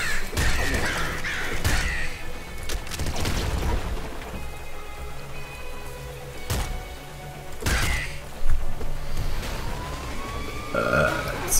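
Crow enemies in the video game Nuclear Throne caw and squawk in bursts among busy gameplay sound effects, heard alone without talking.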